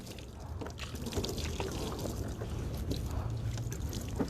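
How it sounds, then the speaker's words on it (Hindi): Water is poured over a body during a ritual washing of the dead, a steady splashing stream running continuously throughout, fairly close with no speech. "और सारा जिस्म पे पानी डाला जाए।"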